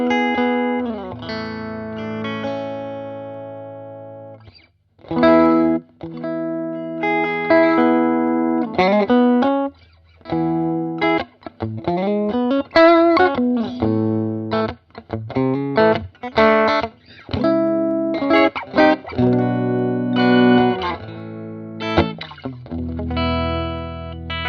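Electric guitar played with soft picking through a Birdsong Kestrel amp at maximum volume, ringing sustained chords and melodic lines with gentle dynamics, brief pauses between phrases, no talking.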